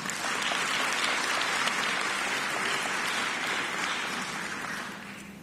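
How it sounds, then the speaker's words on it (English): At the African Renaissance Conference, a large audience gives dense, sustained applause that holds steady and then starts to fade near the end. "Let's give him a round of applause."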